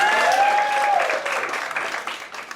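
Audience applause at a stand-up comedy show: a dense burst of clapping from a club crowd, loud at first and gradually thinning over a couple of seconds, with a faint whistle or cheer near the start.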